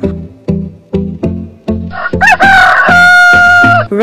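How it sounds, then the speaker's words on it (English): A cartoon rooster gives several short, clucking calls in an even rhythm, then breaks into a long, loud cock-a-doodle-doo crow, close and alone. "Rooster."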